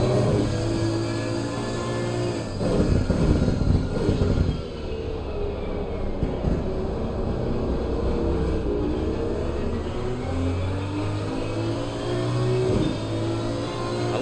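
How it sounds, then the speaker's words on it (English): GT3 race car engine in Assetto Corsa Competizione on the wet Snetterton circuit, a steady loud gurgling, grumbling drone with rising and falling revs throughout, no talk. "I love the way that thing gurgles and grumbles."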